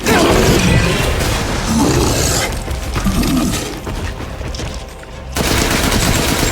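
Loud, dense rapid gunfire from the horror game Resident Evil Village, bursts of shots with roaring creature noise mixed in, a brief lull near the end before firing resumes.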